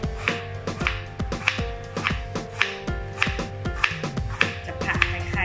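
A knife chops bitter melon on a cutting board at a diagonal, sharp evenly spaced thuds roughly twice a second, close and crisp, with no talking over them.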